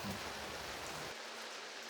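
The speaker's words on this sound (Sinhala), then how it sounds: "හොඳටම වහිනවා." Steady broadband heavy rain hissing throughout, with a dense wash of drops that thins slightly in the low end toward the end; no voices.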